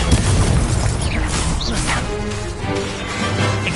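A Confringo fire spell bursting in a Harry Potter Hogwarts video game, a dense roaring crash of blasts and clattering debris that stays loud throughout amid other spell effects.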